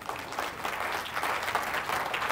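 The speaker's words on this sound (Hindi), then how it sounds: "तुम्हारी लाइफ में अगर चैलेंजेस हैं तो ताली बजाओ।" A seminar audience claps together, a steady dense burst of applause filling the room for a couple of seconds.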